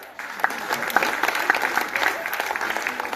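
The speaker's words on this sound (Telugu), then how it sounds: "వీళ్ళందరికీ క్లాప్స్ కొట్టండి ఒకసారి" An audience claps for a few seconds at a spiritual gathering, with dense, steady applause at moderate volume and a few louder individual claps standing out.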